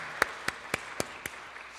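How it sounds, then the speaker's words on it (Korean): A church congregation at a New Year's Eve service claps in unison, five sharp, evenly spaced claps in a quick rhythm, fairly faint and with no talking. "우리 하나님께 영광의 박수 한번 올려드리겠습니다."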